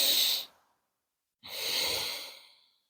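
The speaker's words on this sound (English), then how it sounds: "take one more cycle of your breath, inhaling and exhaling through your nose, down to your belly, and full breath out" Slow breathing through the nose during a beginner yoga session, a short close exhale fading out, a pause of near silence, then a longer, soft airy breath that swells and tapers away.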